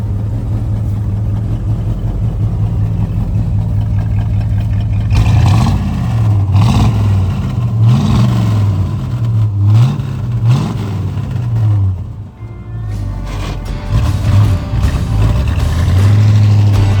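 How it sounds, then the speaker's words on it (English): A 1956 Chevrolet Bel Air convertible engine idles with a steady low rumble, then revs up in several rising and falling bursts, loud and close, with no talk. "when you hit the key, fires right up the way it's supposed to."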